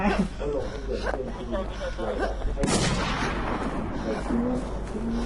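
Gunfire rattles through a WarZ survival shooter match amid a dense, noisy game mix, with players talking and laughing excitedly over the shots.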